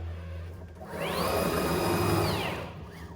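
A Onefinity Elite CNC router with a Masso controller and Rapid Change ATC homes to the toolsetter, its motors giving a rising whine that holds steady for about a second and a half, then falls away over a low background hum.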